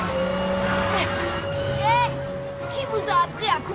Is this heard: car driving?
yes